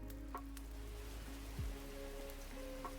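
Rain ambience from an app plays as a steady, soft, even patter with a faint hum underneath and a couple of small tonal blips, with no voices.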